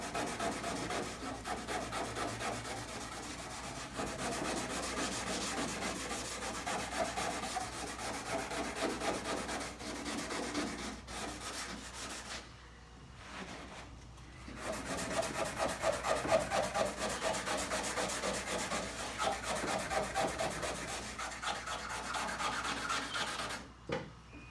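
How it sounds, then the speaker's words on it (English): A microfiber towel rubs steadily over the peeling clear coat edges of a car's paint, a continuous close-up scrubbing hiss with a brief pause midway before the strokes resume. "So I'm going to use this towel now. This is the microfiber towel."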